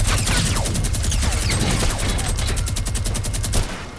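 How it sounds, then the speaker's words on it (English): A minigun in a video game fires a rapid, unbroken stream of shots, loud and close for several seconds before it cuts off abruptly near the end. "let me get the minigun"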